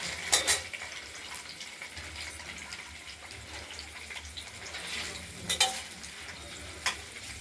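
Pieces of paneer fry in a kadai for a Bengali poppy-seed paneer dish, giving a steady low sizzle with a few sharper spatters and stirring clatters near 0.5, 5.5 and 7 seconds.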